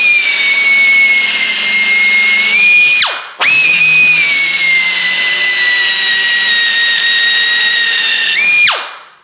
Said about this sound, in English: it just chamfers that little thing like nothing